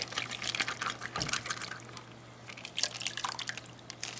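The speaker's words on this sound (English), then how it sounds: "Rinse the bag." Water drips and trickles while a gold prospecting bag is rinsed during gold panning, with scattered light splashes and a faint steady hum in the background.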